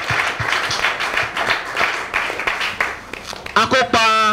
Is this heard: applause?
yes